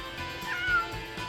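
A rescued shelter cat lets out a short, clear meow, close by and with no talking over it.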